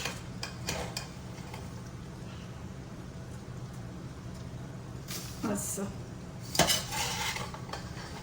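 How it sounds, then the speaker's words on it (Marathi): Poha chivda is poured into hot tempering in a pot and stirred, bringing soft rustling and repeated clinks and scrapes of a metal spoon against the pot, with a sharper clatter near the end under a quiet indoor background. "आता ह्याला असं फोडणीत ओतून घेऊ म्हणजे फोडणी जळणार नाही"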